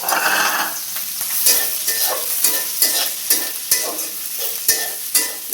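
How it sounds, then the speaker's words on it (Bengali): Food sizzles steadily in a pan as a spatula scrapes and stirs it in a regular rhythm of sharp, close strokes over the continuous frying hiss. "এটা ভাজা ভাজা হবে, ভাজতে থাক"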